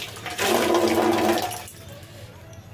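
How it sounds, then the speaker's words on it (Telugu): A short, loud rush of running water splashes for about a second while items are rinsed clean, then settles into a quieter trickle. "ఇప్పుడు అన్నీ కడిగేసుకుంటాను"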